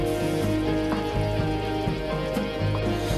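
Libyan soup with orzo and mint boiling on a stove: a steady, close, dense bubbling and simmering hiss that continues evenly, with no talking.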